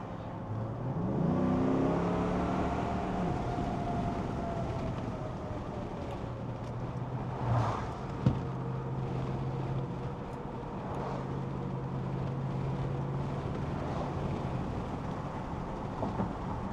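Steady low road rumble and wind noise inside a Chrysler 300 sedan while driving, continuous and moderately quiet, with a faint rising engine tone early on and no talking.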